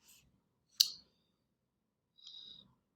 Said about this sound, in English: So Jonathan was typing something